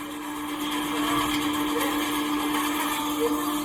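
An electric drain-cleaning spring machine runs steadily while its cable is pulled back out of a clogged squat toilet, giving a continuous whirring motor hum with a gritty rattling texture, close and moderately loud.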